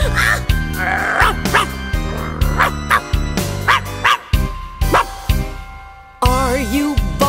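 A small dog barks repeatedly, close by, with sharp yips and a few whiny, drawn-out cries between bursts.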